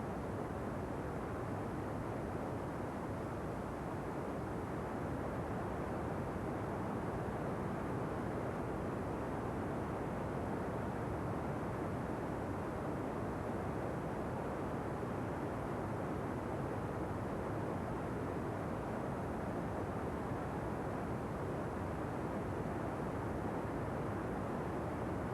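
North American XB-70 Valkyrie in flight, a steady, dense, unbroken jet roar that holds at constant loudness throughout with no voices.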